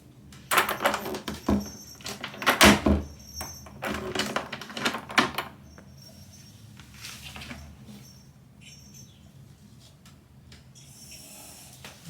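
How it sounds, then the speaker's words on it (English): A door is opened indoors, with a cluster of close knocks, clicks, rattles and rubbing sounds in the first half, then quieter scraping fading out. "Okay, let's open the door, okay? Let's open it."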